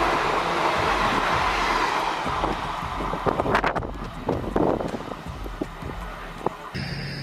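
A train rumbles past with rattling, clattering wagons and wind buffeting the microphone, the noise easing toward the end.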